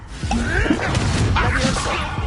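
A fire spell cast in Hogwarts Legacy bursts out over a dense layer of game effects, with whooshing flame and impact-like crackles that run steadily through the short stretch.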